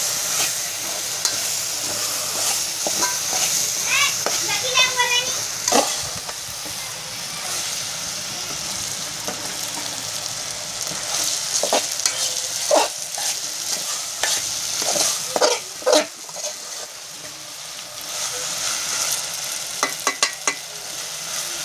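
Soaked green chilies are dry-fried without water in a pan, a continuous sizzle broken by repeated scraping stirs and clanks of the spoon, close and fairly loud throughout.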